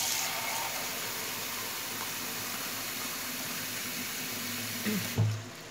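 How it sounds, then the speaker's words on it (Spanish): Water is poured into a seafood and fish paella pan, a continuous rushing splash that runs steadily at close range before ending in a brief clatter near the close. "echarle agua."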